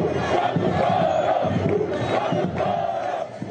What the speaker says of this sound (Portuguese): É o grito marcante da torcida tricolor.